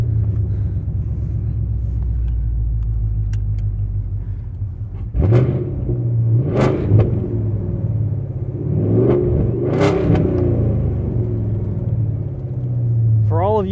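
Modified 2017 Chevrolet Camaro SS convertible with a V8 engine driving, a deep steady rumble from the cabin swelling in several revving surges, with someone talking over it.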